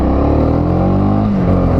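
A Honda CB300R motorcycle engine accelerates hard, a loud close-up rasping drone with rising harmonics that dips briefly as if shifting gear, heard alone without talk.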